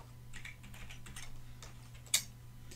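Password keys tapped on a Windows computer keyboard, a light, irregular run of quiet clicks over a steady hum, with one sharper, louder key strike near the end.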